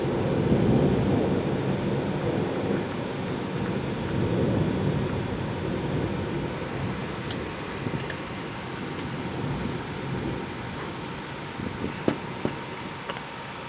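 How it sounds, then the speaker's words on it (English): Low rumbling thunder rolls through steady rain in a slow-moving thunderstorm in southeastern Pennsylvania, fading gradually, with a few sharp drips or taps near the end; no talking. "the thunder is not very loud"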